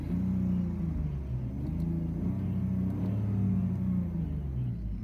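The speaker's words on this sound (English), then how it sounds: "Let's rev it up." The 2.5-litre engine of a 2000 BMW 323i E46 with a manual gearbox revs in smooth, rising and falling swells, a steady close rumble with no talking.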